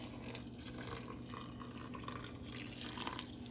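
Homemade chicken broth being poured into a cooking pot gives a soft, continuous trickle and splash of liquid, faint and close, with no talking.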